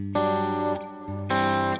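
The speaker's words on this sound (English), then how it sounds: "Dynamic plate is the plate reverb that got added fairly recently" Sustained electric guitar chords ring out in two bursts with a brief dip between, drenched in a shimmering plate reverb tail from a Helix dynamic plate effect at stock settings.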